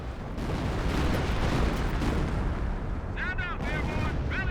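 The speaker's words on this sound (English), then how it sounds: "Freaking barrage" An artillery barrage in the Company of Heroes real-time strategy game, a dense continuous rumble of explosions and blasts, loud and sustained, with a brief voice-like chirp near the end.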